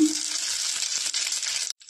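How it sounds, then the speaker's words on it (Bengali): Cumin seeds sizzle in hot mustard-free white oil left from frying small fish in a wok, a bright, crackling hiss close by that runs steadily, then cuts off abruptly near the end. "জিরে ফোড়ন দিলাম,"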